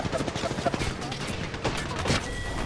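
Rapid gunfire during a firefight in Apex Legends, a close, dense burst of repeated shots with sharp cracks, fairly loud and continuous over the short span.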